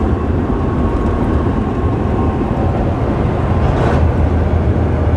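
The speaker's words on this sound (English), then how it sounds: "It's going to do the gearing down all on its own." A 2007 Volvo 880 truck with an 18-speed Eaton Fuller Ultrashift decelerates off throttle while the automated gearbox downshifts on its own, a steady loud low rumble of engine and road noise with a brief shift-like change near the end.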